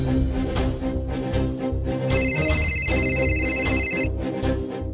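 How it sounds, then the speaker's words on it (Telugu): A telephone rings in a room of a house, its electronic ring tone sounding for about two seconds over a loud, continuous background bed. "నీ రూమ్లో ఉన్న ఫోన్ రింగ్ అయిందంటే"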